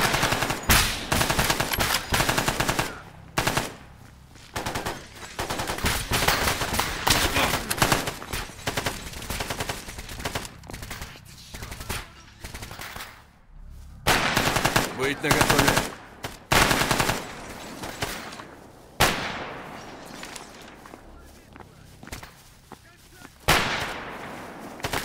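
Gunfire from the video game Stalker GAMMA crackles in repeated bursts and single loud shots across the whole stretch, with brief pauses between volleys and a voice talking now and then underneath.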